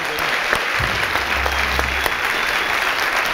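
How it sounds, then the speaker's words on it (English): Audience applause fills a debate hall after a handshake on stage, a dense and continuous roar of clapping at steady volume with a low rumble underneath. "Please give these gentlemen a round of applause."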